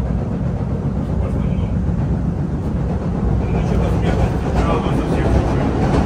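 A steady, loud rumble of a Boston subway train in motion, with constant rattling noise throughout and a faint voice underneath.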